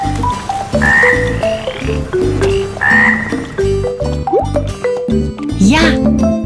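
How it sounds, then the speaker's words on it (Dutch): A frog croaks in repeated loud, rhythmic bursts, deep throaty pulses with bright chirping calls layered between them, up close and filling the clip. "Het dier op de puzzel is een kikker."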